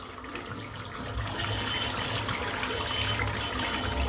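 Running tap water splashes steadily as a shaving brush is rinsed beneath it, a close continuous gush that swells slightly after the first second.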